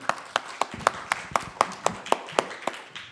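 Hands clapping in a church service, about a dozen crisp, evenly spaced claps in a steady rhythm, fairly close and clear with nothing else over them.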